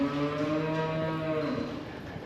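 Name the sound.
cattle (dry cows and heifers) mooing in a barn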